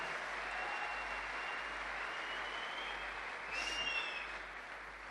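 Faint, steady applause from an audience at a stage event, cheering two Diamond-ranked members of a direct-selling network; the clapping is distant and evenly sustained, with a brief electronic tone sounding near the end.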